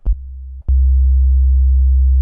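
Pure sine-wave synth bass note played in Ableton Live: two quick clicky blips, then a loud, smooth, sustained low hum that holds steady to the end.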